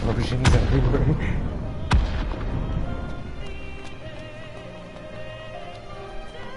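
Heavy booming explosions from combat in Final Fantasy XV Royal Edition, with two sharp, loud blasts early on followed by a dense rumbling battle wash that gradually settles.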